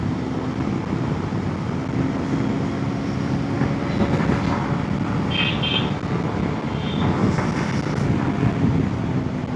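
A 2025 Hero Xpulse 210 motorcycle cruises in sixth gear in road riding mode, its engine drone buried under heavy, constant wind rush at speed.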